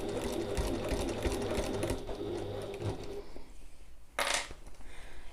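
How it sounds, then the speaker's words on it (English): Flatbed sewing machine stitching a fabric satchel bag, a steady close mechanical whirr running for about three seconds, then quieter handling with a brief burst near the end. "I'm sewing inside the bag here on my flatbed machine."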